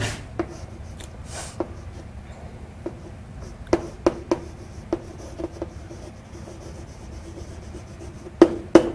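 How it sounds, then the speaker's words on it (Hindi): Chalk or pen writing out the first line of a Class 9 lecture on why we fall ill, heard as soft continuous scratching with sharp taps and strokes, close and fairly quiet, with no talking. "तो पहली लाइन लिख सकती हूं"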